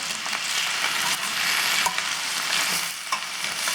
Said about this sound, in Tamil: இப்போ கத்திரிக்காயை சேர்த்ததுக்கு அப்புறமா இதை வந்து நல்லா வந்து கலர் மாறுற வரைக்கும் நல்லா வேக விடணும்